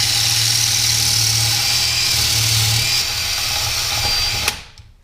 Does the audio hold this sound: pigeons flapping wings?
no